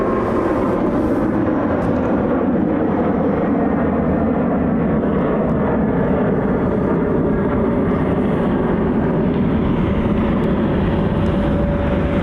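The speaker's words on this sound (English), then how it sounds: "Star Alliance livery 737 is flight 486 on its way to Denver" A United Boeing 737 in Star Alliance livery, flight 486 to Denver, roars steadily past an airport in Cleveland, a loud broadband rumble of jet engine noise that holds strong throughout.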